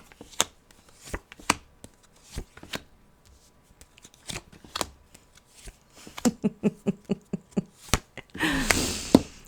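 Tarot cards being shuffled in sharp, rapid bursts of riffling and tapping, close and fairly loud, with a dense flurry of card slaps near the end and no talking.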